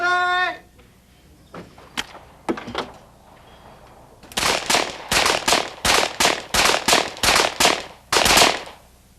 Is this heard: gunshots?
yes